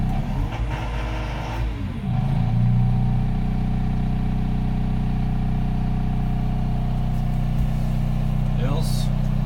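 The diesel engine of a Manitou MLT635 PS telehandler runs steadily with a loud, droning hum. A short shift in tone occurs early on, then a constant idle continues for several seconds.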